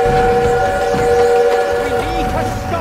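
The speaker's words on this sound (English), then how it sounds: "We need to stop that train!" Train in the World War II shooter Call of Duty WWII, a loud sustained horn-like wail with steady tones over rumbling engine and action noise, with shouting voices mixed in throughout.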